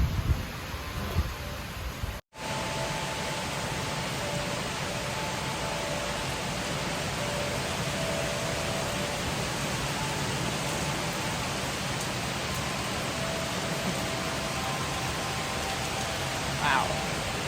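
Steady outdoor rain hisses continuously as a broad, even wash of noise, close and moderately loud, with a brief cut early on.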